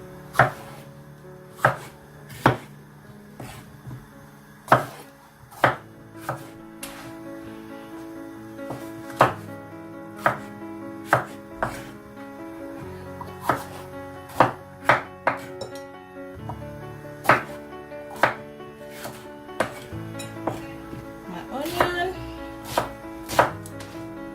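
Food, likely tomatoes, is cut with a knife on a board in a kitchen: a series of crisp, irregular chopping thuds close up, with occasional clinks of dishes and a hum of background noise.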